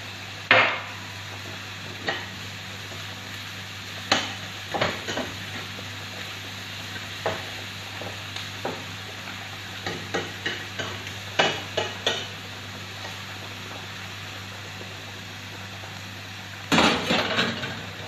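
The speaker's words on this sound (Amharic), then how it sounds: "ከዛ ነጭ ሽንኩርት ጨምራለሁ።" Garlic is added to a frying pan and stirred while cooking pasta sauce. A steady sizzle runs throughout, broken by intermittent scrapes and clinks of a utensil against the pan, with a louder clatter near the end.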